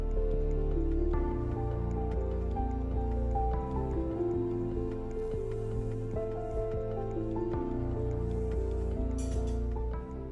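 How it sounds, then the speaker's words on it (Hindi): Hot oil spooned over a potato katori frying in a pan, a steady bubbling sizzle with wet drips and splashes, close and continuous, with a low hum underneath. "अंदर की तरफ ऐसे गरम गरम तेल डालते जाइए ताकि इस तरफ से भी अच्छे से पक जाए"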